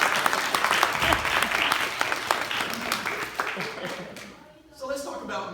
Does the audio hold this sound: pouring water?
no